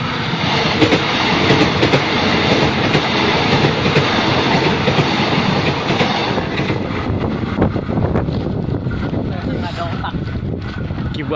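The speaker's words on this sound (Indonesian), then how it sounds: "Kita minggir, Mas, ini minggir kereta." A train rumbles past very close, loud and continuous, with rattling wheels and wind rush over the whole stretch and a voice faintly underneath.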